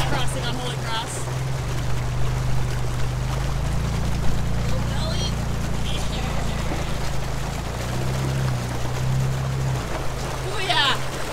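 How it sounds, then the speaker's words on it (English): An off-road Jeep or Bronco rolls through a shallow creek crossing on Holy Cross Trail, its engine droning low and steady with faint water sloshing and splashing, while people talk over it. "this is the creek crossing on Holy Cross"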